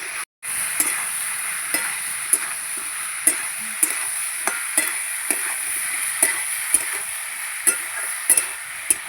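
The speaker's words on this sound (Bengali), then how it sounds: "এবারে ভালো করে মশলাগুলো কষিয়ে নেব" Spices being sautéed with radish in a pan for tengra fish curry: a constant loud sizzle of frying, broken by regular sharp scrapes and taps of a spatula stirring against the pan, close up.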